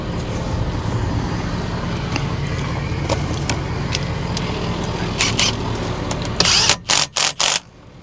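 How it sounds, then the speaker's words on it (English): A bolt is tightened on a row crop tractor cylinder during a leak repair: a steady mechanical hum runs throughout, ending in a few sharp, close clicks and ratchet-like bursts. "We'll put our bolt in there and then we'll tighten up that bolt."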